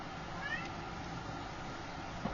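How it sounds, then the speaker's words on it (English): A cat meowing from another room while someone is indoors, faint and muffled with a brief squeaky call, barely rising above a steady room hiss. "She's out there meowing at me."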